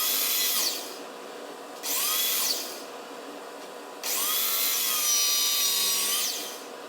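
A stack of wooden strips being cut to final length with a power saw, three separate bursts of loud whining cutting with brief quieter gaps between them, no voices.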